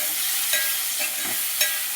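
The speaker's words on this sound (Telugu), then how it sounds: "ఇంకా బాగా వేపుకోవడం, కలుపుకోవడం" Ridge gourd sizzles in a pan as a utensil stirs it, with a few soft scrapes against the metal.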